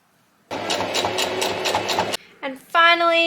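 Sewing machine stitching closed the back seam of a skirt, a quick rattling run of stitches for about a second and a half, then stops, followed by short tonal squeaks.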